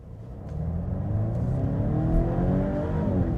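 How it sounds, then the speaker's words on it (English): A 2025 Volvo V90 B6 Cross Country accelerates at full throttle from a standstill, its engine swelling from a low rumble into a steady rising drone with gear changes audible, heard from inside the car. "This time we won't brake torque it, we'll just floor it."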